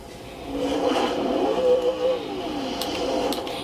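A car in a video game drives and revs, its engine tone rising and falling in a wavering, moderately loud drone, with faint scraping clicks toward the end and no talking.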